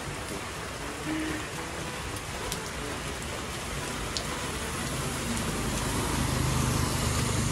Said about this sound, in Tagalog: Inabot po kami ng malakas na ulan mga kadilag.